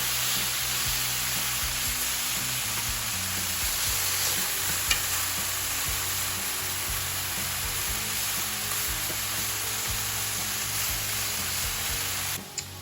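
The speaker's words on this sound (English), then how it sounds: "while our beef is searing" Steak bites sear in a hot pan, producing a dense, unbroken sizzle that stays loud and close with faint occasional ticks and shifts, then cuts out just at the end.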